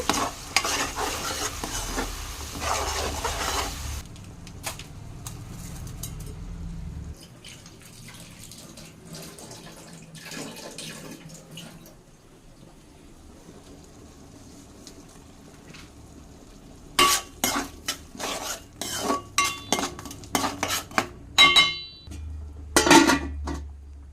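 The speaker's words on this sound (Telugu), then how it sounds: "ఇది మొత్తం ఒకసారి కలుపుకోవాలన్నమాట పచ్చివాసన అంతా పోయేంత వరకు అయితే తిప్పుకుంటూ ఉండాలి" Onions and slit green chilies frying in a pan are stirred, with a soft sizzle and bursts of utensil scraping, a stretch of running tap water at the start, and clustered clattering strokes near the end.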